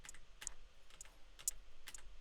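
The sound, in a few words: pressing arrow keys on computer keyboard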